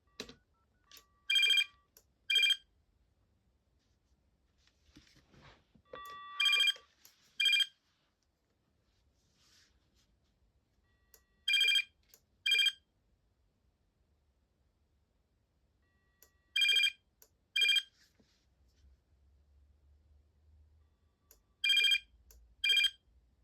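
A Binatone Icarus 2100 landline phone rings in clear electronic double trills, five pairs repeating at steady intervals with near silence between them.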